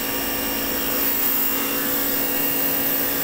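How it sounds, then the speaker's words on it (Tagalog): An evaporator blower motor runs with its belt-driven blower wheel and pulley inside the evaporator compartment, a loud, steady, unbroken whirring hum with no talking over it. "Yan, evaporator motor or blower motor,"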